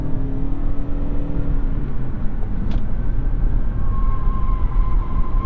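A 2021 Toyota Avalon Hybrid accelerating hard, with a loud, steady engine and road roar building from inside the cabin and a rising whine near the end, without talk.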